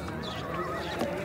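A Marwari horse in northern India neighs in a brief, close whinny that rises and wavers over a steady outdoor background.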